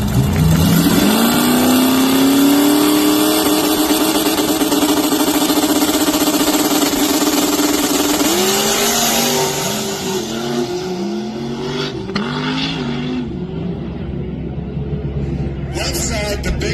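No-prep small-tire grudge race cars launch and scream down the strip, with loud high-revving engines climbing in pitch and then shifting repeatedly, fading slightly as they pull away while voices talk over it.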